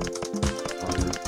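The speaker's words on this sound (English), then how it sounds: "I'm tapping, I'm like not tapping, but I'm pressing this keyboard." Computer keyboard keys pressed in quick irregular clicks and taps, close and fairly soft, running through the whole brief moment with no talk.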